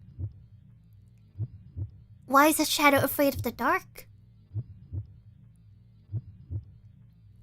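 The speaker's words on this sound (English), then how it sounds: "The heartbeat is kind of scary" Steady thumping heartbeat from the video game Z.A.T.O., a low double-pulse repeating at a regular rhythm throughout, briefly overlapped by a voice speaking in the middle.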